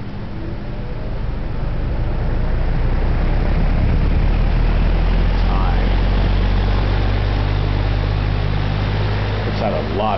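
An Atkins Breeze All two-speed box fan runs on high speed, a loud, steady whooshing roar of moving air with a low motor hum, close and continuous throughout.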